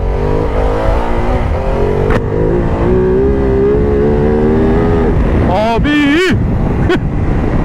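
Ducati Multistrada V2S motorcycle engine droning steadily under heavy wind rush while riding, then revving sharply up and down in quick bursts near the end, with a rider's voice briefly heard.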